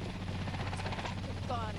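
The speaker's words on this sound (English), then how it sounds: "Oh, your helicopter." Helicopter in the video game Dead Island 2, a steady rotor thrum and whine running throughout under a voice talking.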